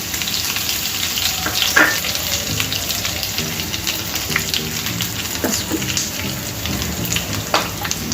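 Mustard seeds, cumin and curry leaves fry in hot oil for a tempering. A dense, steady sizzle is dotted with sharp pops and spluttering crackles throughout.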